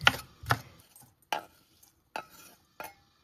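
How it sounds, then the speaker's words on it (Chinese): Knife chopping a pan-fried century egg on a cutting board, with a handful of sharp, separate thuds spaced unevenly over a few seconds, close and clear. "接下來我們直接用刀給它切碎一點就可以了"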